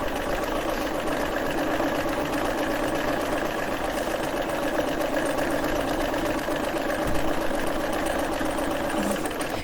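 A sewing machine stitches fabric in a steady, close, fast whirring hum with a continuous rapid mechanical chatter of the needle, unbroken for the whole stretch.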